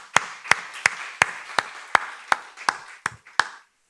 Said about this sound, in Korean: 창세기 강해를 3년 6개월 동안 달려오신 우리 교우들에서 박수 한번 하겠습니다